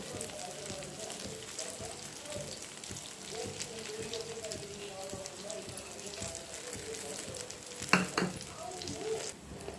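Eggplant frying in a pan with peanut chili powder, a faint continuous sizzle with soft scraping stirs and one sharper clink near the end.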